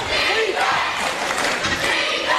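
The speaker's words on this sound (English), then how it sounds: "Crowd is starting to rev up." Basketball crowd at a men's championship grand final roars and cheers loudly throughout, a dense wall of voices and shouts rising and swelling.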